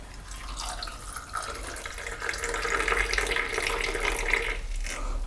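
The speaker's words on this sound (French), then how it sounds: "un bon verre de thé à la menthe que je vais me servir tout de suite" Mint tea poured from a height into a glass, a steady splashing stream that builds slightly in intensity over several seconds before tapering off, close and alone without talk.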